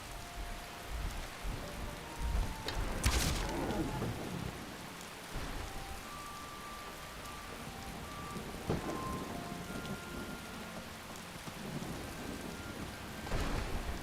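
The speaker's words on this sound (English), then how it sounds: "I was hoping really to have some sunshine, but as it is, we've got the rain." Steady rain hisses through a thunderstorm in Skyrim's Bruma area, a modded game setting. Sharp thunder cracks break out near the start and again near the end, and no one talks.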